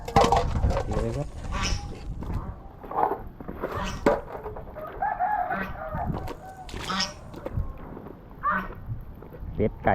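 Chickens crow and cluck in a rural yard after a storm, with several loud calls scattered among other farm sounds and someone talking over them.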